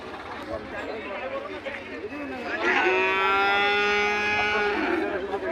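Bullocks low loudly in the foreground at a cattle market, one long drawn-out moo rising over a murmur of crowd chatter and voices.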